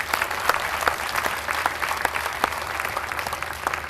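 Loud, steady applause from a banquet audience at a chamber of commerce small business awards event, many hands clapping together continuously with no talk.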